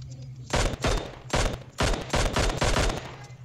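Loud bursts of automatic gunfire in the video game PUBG Mobile, four rapid volleys of cracking shots in close succession, each lasting about half a second, with brief gaps between them.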